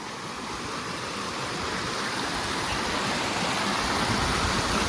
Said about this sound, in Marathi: छोटा धबधबा आहे बघू तर कसा आहे